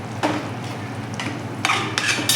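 Mutton masala for dry-style mutton being stirred and mixed in a pan, with repeated scraping and clinking of a spoon against the metal and a faint sizzle underneath, with several louder strokes toward the end.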